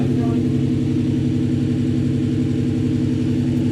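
A BMW E39 M5 engine idles steadily just over 1,000 RPM right after a rod bearing replacement, a loud, even low rumble with a regular pulsing beat throughout.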